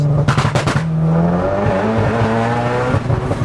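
An Audi S3 8V on a rolling launch, the engine bouncing hard off a limiter in rapid stuttering pops, then holding a loud, steady high rev, close and alone with no talk.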